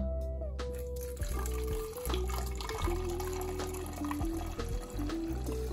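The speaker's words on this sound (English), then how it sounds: "I'm gonna pour it into my spray bottle right here." Apple cider vinegar and water poured into a plastic spray bottle while preparing brisket for a pellet grill, a steady close-up liquid stream with a ringing tone that climbs in pitch as the bottle fills.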